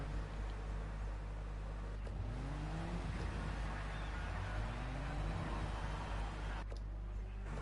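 Race cars leave the pits in a modern touring car racing game: a low, constant engine rumble with rising revving sweeps as cars accelerate away, moderately quiet, with no talking.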